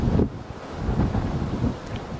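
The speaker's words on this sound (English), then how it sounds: "The wind's moving it." Strong outdoor wind buffets a camera microphone, producing a loud, low, rumbling roar that surges and eases in gusts throughout.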